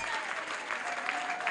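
Church congregation applauding during a prophet's sermon, a short burst of continuous clapping from many hands with voices mixed in.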